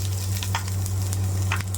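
Onions frying in oil alongside small coconut pieces, a steady close sizzle with faint crackles over a constant low hum, no voices.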